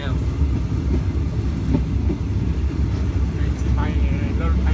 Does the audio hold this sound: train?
yes